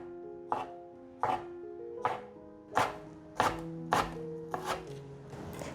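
A knife chopping enoki mushrooms on a cutting board, eight distinct woody thuds at an uneven, unhurried pace, close and clear with quiet between strikes.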